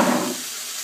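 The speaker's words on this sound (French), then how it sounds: "Vous faites bien revenir vos poivrons." Bell peppers for ratatouille sizzling in a hot pan, a loud burst of hissing and spattering at first that quickly settles into a softer, steady sizzle.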